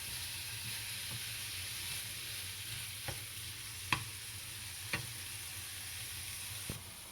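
Food breaking up and frying in a pan while making a Mexican cornbread casserole, heard as a low steady sizzle with a few sharp taps of the utensil spaced seconds apart.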